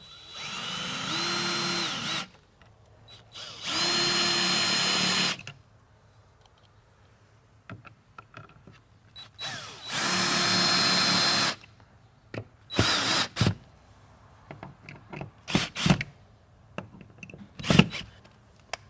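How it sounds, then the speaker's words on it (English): A power drill drives screws into the back plate of an industrial wall-mounted hand-cleaner pump, sounding in three long loud whirring bursts. Shorter clicks and taps follow. "You want to make sure all 4 of these screws are drilled all the way in"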